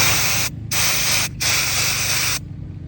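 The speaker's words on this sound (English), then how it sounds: "So now we're going to blow down the hole where that goes to." Compressed air blasts through a hole in an ATV carburetor, loud hissing bursts in three runs broken by two short gaps, then cutting off to quiet.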